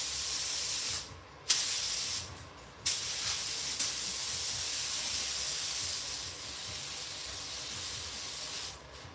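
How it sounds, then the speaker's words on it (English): A roughly 20-year-old Matco touch-up paint spray gun spraying candy paint over metal flake, a loud steady close hiss in long bursts broken by brief pauses and sharp trigger clicks. "this is my gun. It's probably 20 years old. Matco touch-up gun."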